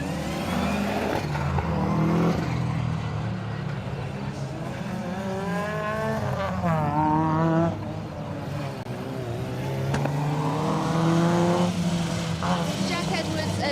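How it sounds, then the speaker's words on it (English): Rally cars on a tarmac stage, including a Mazda MX-5, rev and pass by one after another, engines rising and falling as they go past, while a commentator talks over them. "just letting Peter Taylor and Charlotte Wainwright through in their Mazda MX-5"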